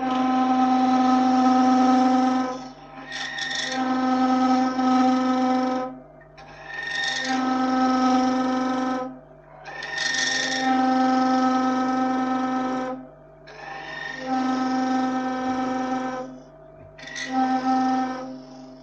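A wood lathe turning a thin-stemmed goblet gives a steady tonal motor whine that rises in short, repeated bursts of about two seconds each, separated by brief drops, loud and close with no talking.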